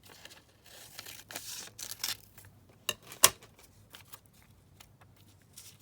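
Scissors snip through paper and fabric scraps from a doily page in a quiet room, giving a string of soft cuts and crinkles with one sharp, louder snip near the middle.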